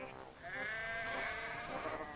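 Sheep bleat in a children's animated railway story as farmers unload them from wagons, a single drawn-out wavering bleat close by over a soft rumbling background.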